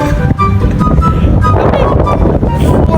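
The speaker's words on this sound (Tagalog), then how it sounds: "Mas malamig dito, guys." Heavy wind buffeting the microphone in loud, rumbling gusts at Malico View Point on the Pangasinan to Nueva Vizcaya road, with a person's voice faintly mixed in.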